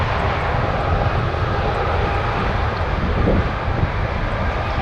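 An Air Canada Boeing 777-200 takes off at Toronto Pearson airport, its engines a loud, steady, broad roar that holds constant throughout with no speech over it.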